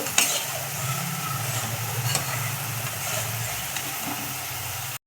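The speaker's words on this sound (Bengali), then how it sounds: "দুধটা খুব ভালো করে ফুটিয়ে নেব" Milk mixed into hot water boils in a pot for an egg curry, giving a steady, fairly faint bubbling hiss that runs without a break to the end.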